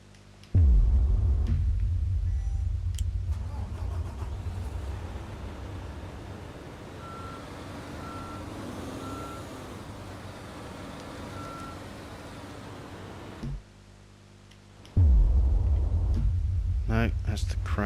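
A truck's reversing alarm sounds in the Construction Simulator 2 video game on PS4. A few evenly spaced beeps play over a steady vehicle rumble, with heavier engine noise at the start and end.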